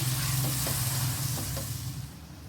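Ground spices are stirred in a pan while cooking a Bengali fish head rice curry, giving a steady sizzle with a low hum beneath and a few soft scraping strokes, close and unaccompanied by talk.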